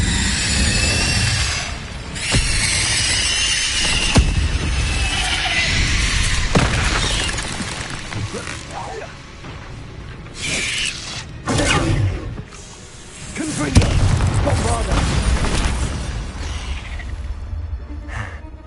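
Fiery blasts and booming bursts from Incendio and other combat spells erupt in a battle in the video game Hogwarts Legacy on PS5, loud whooshes and impacts rolling through with game music and brief voices.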